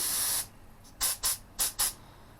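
Iwata or DeVilbiss HVLP spray gun spraying paint with the air set to full: one long hiss, then four short sharp bursts of spray in two quick pairs, close and loud.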